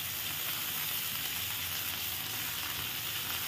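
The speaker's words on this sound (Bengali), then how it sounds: "কিছুক্ষণ এটি ভাজবো, আমি ভালো করে ভেজে নেবো সবজিগুলো" Carrot and radish pieces fry with potato and pumpkin in a pan over high flame, giving a steady, faint sizzle with no voices.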